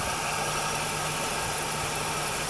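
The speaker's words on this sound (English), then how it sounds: "You definitely see the belt gets loose when the AC compressor engages." A car engine idles steadily with a loose belt as the AC compressor engages, a constant mid-level rumbling drone with a faint whine, close and uninterrupted.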